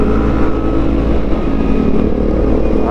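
A Kawasaki ZX10R superbike engine is heard up close, idling and revving loudly and continuously at a steady, throaty pitch, with popping from the exhaust.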